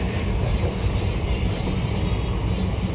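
Steady rumbling rattle inside a moving train carriage, a dense continuous clatter at moderate loudness with no voices.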